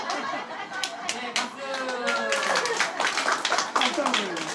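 A small church congregation claps for a child after a Bible verse recitation at a Sunday service, a brief burst of sharp claps under voices and light laughter.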